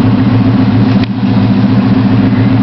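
A 1977 Chevrolet C10 engine idles steadily on a cold start, a loud, continuous low rumble running alone without any change in pitch.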